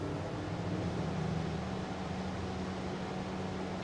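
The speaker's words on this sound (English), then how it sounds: "I hear a fan starting." A cooling fan whirs steadily at a Revel Superhub CHAdeMO fast charger, a constant broadband hum with a low drone underneath and no voices over it.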